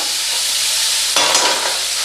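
Steady broadband sizzling of tomatoes frying in a pan, with a brief stirring scrape partway through; no voices.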